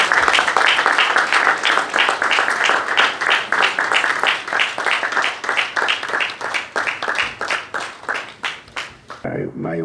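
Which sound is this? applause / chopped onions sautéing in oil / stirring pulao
applause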